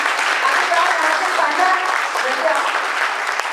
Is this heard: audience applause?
yes